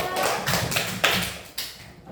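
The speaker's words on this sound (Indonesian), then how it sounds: "Tepuk tangan untuk teman kita yang sudah membacakan." Primary school pupils clap for a classmate who has just read aloud in class, a few loud broadband bursts of claps close by in a classroom, fading near the end.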